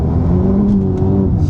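A 2025 Mercedes-AMG GT 43 accelerates hard in first gear. Its engine note is loud and close, a smooth humming tone that climbs briefly in pitch.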